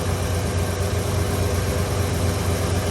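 A 1969 Lincoln Continental Mark III's V8 runs steadily at idle, a close, even low rumble with a constant hum and no rattle, heard alone without voices.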